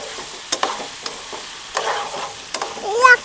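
Okra frying in a pan with green chillies, a soft steady sizzle broken by sharp spatula scrapes and knocks as the pieces are stirred, close and fairly clear.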